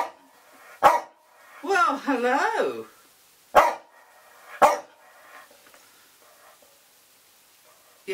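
Dogs bark in a garden in a few sharp, loud single barks with a longer burst of yapping and whining between them, and a person speaks briefly nearby.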